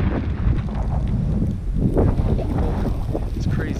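Strong blizzard wind buffets the microphone while hiking up a dark hill at night, a steady loud roar with gusty swells throughout.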